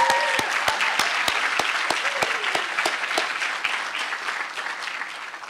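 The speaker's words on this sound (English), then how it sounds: "you have to give a big round of applause to those who have been with you" Sustained applause from a university commencement audience honoring graduates' family and friends, dense clapping with sharper individual claps standing out, steady and loud throughout before tapering slightly at the end.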